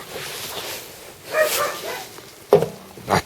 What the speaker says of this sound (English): That dog is getting right on my Nelly. It's a terrier.